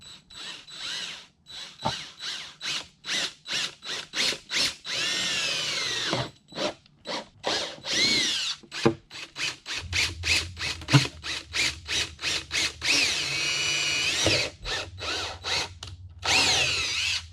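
A power drill whirs in repeated short bursts, drilling out holes for a motorcycle luggage rack, starting and stopping rapidly, with a few longer sustained runs and occasional clunks in between.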